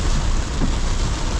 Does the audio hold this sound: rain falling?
yes